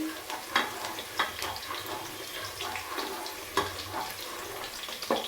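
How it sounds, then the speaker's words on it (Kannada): Tomato and onion frying in a pan for mushroom biryani, a steady hiss with sizzling crackle and occasional sharper pops or stirring clicks, close and fairly quiet, with no speech. "ಇವಾಗ ಇದು ಚೆನ್ನಾಗಿ ಫ್ರೈ ಆಗಬೇಕು, ಟೊಮೆಟೊ ಈರುಳ್ಳಿ ಸಾರಿ"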